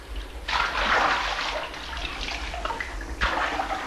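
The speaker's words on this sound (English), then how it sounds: "the bear put all four paws into the bath and splashed about like a child." A bear splashing about with all four paws in a bath of water, sloshing bursts of water in two main surges with a quieter watery churn between, close and fairly loud.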